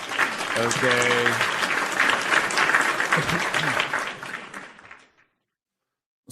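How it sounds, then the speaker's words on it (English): A live-show crowd breaks into a round of applause for a world debut, loud sustained clapping that tapers off and ends abruptly after about five seconds, with a brief spoken word over it. "round of applause for the world debut"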